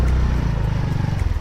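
A motorcycle goes past close by on a street in Tolosa, Leyte, its engine giving a brief, loud, throbbing rumble.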